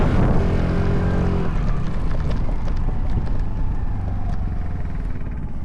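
GPX Moto FSE140 motorcycle with an 11-horsepower engine accelerating on a cold ride, a steady drone under heavy wind rush at the microphone, loud and continuous.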